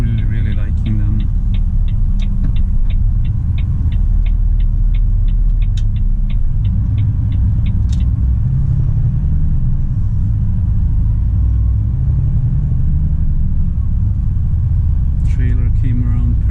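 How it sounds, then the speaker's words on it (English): A Volvo FM truck with a tandem drawbar trailer maneuvers on a snowy road, a loud, steady low engine rumble inside the cab with a rapid series of ticking indicator clicks early on. "Trailer came around perfectly there, did not hit the curb at all."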